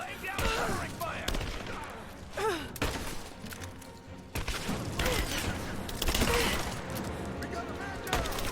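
Gunfire in the video game Rise of the Tomb Raider, with rapid bursts and sharp shots in a dense, continuous firefight, mixed with shouting voices and grunts.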